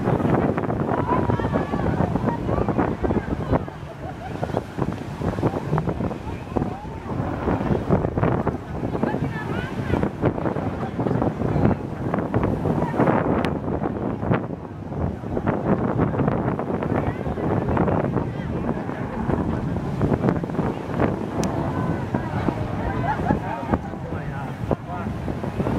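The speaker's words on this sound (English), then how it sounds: "very windy day at Pattaya, with the boats trying to get out to the island and to the parasailing." Strong wind buffets the microphone steadily on Pattaya beach, a dense continuous rush with gusts, mixed with boat engines and surf where boats head out toward the island and parasailing.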